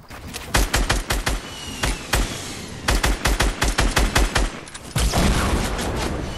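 Gunfire in the Fortnite video game, reported as shotgun fire, comes in rapid bursts of sharp, loud shots with brief pauses between volleys and a denser stretch of firing near the end.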